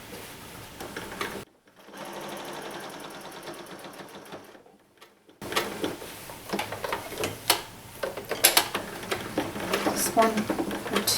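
A sewing machine stitching a denim purse runs in a steady fast mechanical whir for a few seconds, then stops. Afterward come clicks, handling and fabric rustling while a person talks nearby.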